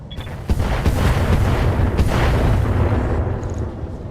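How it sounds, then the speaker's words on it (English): Mech weapons from RogueTech, a BattleTech game, fire in a heavy barrage: a deep boom opens it, then rumbling explosive blasts and impacts roll together into a loud, dense wall of sound. "All weapons, fire."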